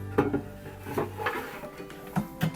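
An oven door shutting after salmon tartlets go in, a few close, sharp clattering knocks of metal and glass spaced irregularly over a quiet kitchen background.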